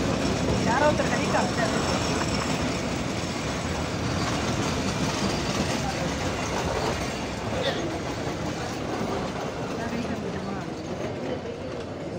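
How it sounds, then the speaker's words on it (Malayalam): A diesel locomotive on the Nilgiri Mountain Railway rumbles steadily, with a continuous low engine drone and faint wheel clatter. The noise stays constant and fairly loud, and a voice may be speaking faintly beneath it. "ആവി എഞ്ചിന്റെ സംഗീതാത്മകമായ ശബ്ദം മാറി ഡീസൽ എഞ്ചിന്റെ ഇരമ്പലാണ് ഇപ്പോൾ കേൾക്കുന്നത്."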